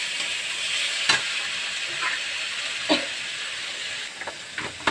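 Ground cumin, ginger and chilli paste frying in a pan: a steady, fairly loud sizzling hiss with occasional sharper spatters and stirring scrapes, without speech.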